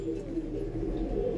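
Pigeons cooing softly at a loft of flying pigeons, a low muffled continuous burble, close but faint, no talk.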